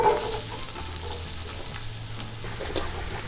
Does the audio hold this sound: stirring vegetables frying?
yes